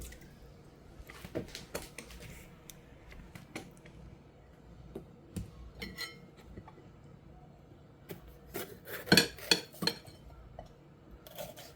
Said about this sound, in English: I'm going to start to cut my peppers